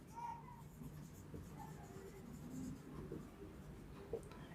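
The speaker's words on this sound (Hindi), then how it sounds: "तो पहले हम इसमें एक लाइन लिखते हैं" A line being written on a board during a class-9 maths lesson on linear equations: a quiet, steady scratching of strokes, faint and close, with no talk.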